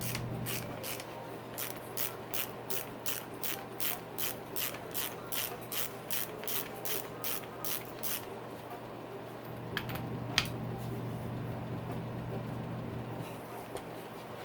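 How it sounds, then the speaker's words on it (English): A ratchet wrench tightening a 17mm bolt on a Yamaha YZ fork axle, steady rhythmic clicking strokes repeated about a dozen times, close and clear, then a few faint knocks. "Tighten up the 17mm."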